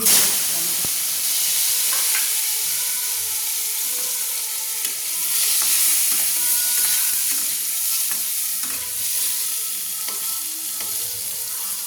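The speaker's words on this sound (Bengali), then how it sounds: "এবার আমি কেটে রাখা আলুগুলো ওই তেলেই দিয়ে দিচ্ছি" Cut potatoes fry in hot oil, giving a steady, hissing sizzle with occasional stirring clicks throughout and no talking.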